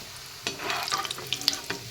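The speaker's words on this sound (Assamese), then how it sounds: "এনেদৰে মচমচীয়া হ'লেকৈ ভাজিলোঁ।" Small fish fry crispy in a hot pan, giving a steady sizzle broken by sharp crackles and pops and a scrape or two of stirring, close and moderately loud.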